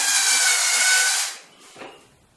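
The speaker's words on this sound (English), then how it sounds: "then drill them and put the wall plugs in" A power drill bores screw holes into a wall for plugs. It whines at full speed for just over a second, then stops, followed by faint rubbing and handling sounds.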